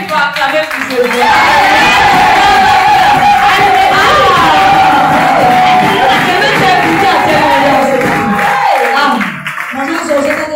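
A church congregation erupts in loud, sustained cheering, whooping and clapping to acclaim God, a dense crowd roar that carries on for several seconds before easing.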